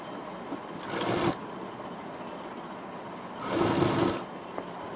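A sewing machine runs in two short bursts, stitching the side seam of a satin-and-cotton Barbie frock, each whirring run lasting about a second with a quiet pause between.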